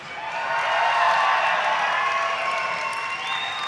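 A crowd at a live gaming tournament event claps and cheers in a dense, steady roar that swells and holds throughout.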